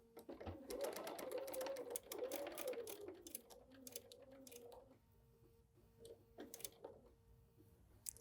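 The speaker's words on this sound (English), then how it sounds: "you can sew straight off the edge at this point and come right on" A sewing machine stitches straight off the edge of foundation paper-pieced fabric in a fast, close whirring run that slows and stops, followed by a few light clicks and handling sounds.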